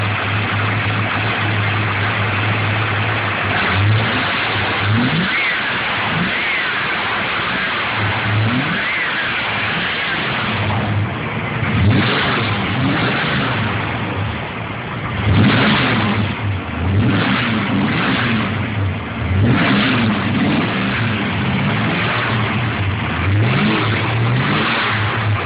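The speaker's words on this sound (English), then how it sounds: "Motor actually runs pretty good." Motor of an old vehicle running steadily, with repeated throttle blips rising and falling in pitch through the second half, close and fairly loud, no talk.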